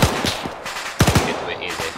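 Rapid bursts of automatic gunfire in an ARMA 3 battle involving British paratroopers and a half-track, loud and close, with two clusters of sharp shots separated by a brief lull and scattered background battle noise.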